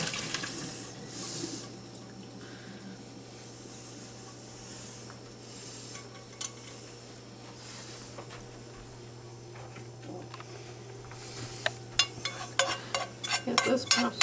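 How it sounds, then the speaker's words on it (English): Hot water from cooked pasta draining into a kitchen sink: a steady watery rush and splashing runs throughout, with clinks and knocks of the pot growing busier near the end. "drain the water."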